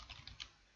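Quick, soft tapping of keys on a computer keyboard, a few light clicks close by in a brief, quiet burst with no voice.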